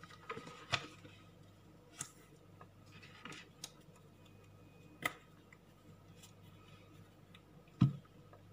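Scissors snip paper while trimming a journal cover, a few sparse, quiet cuts and clicks spaced several seconds apart in a quiet room with no talking.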